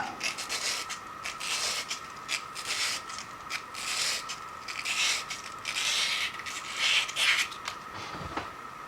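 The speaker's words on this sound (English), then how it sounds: "probably just kissing it with the sandpaper" Sandpaper lightly rubbing a tracer attachment to loosen a snug fit, giving a soft, steady scratchy rasp in short repeated strokes close up, with no talking.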